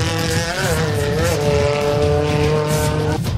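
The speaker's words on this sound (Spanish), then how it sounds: "En un Hyundai i10 vemos a Fabián Arias y haciendo de copiloto Sebastián Arias." A Hyundai i10 races at a mountain hill climb, its engine roaring loudly and continuously with rising revs and gear changes, heard nearby.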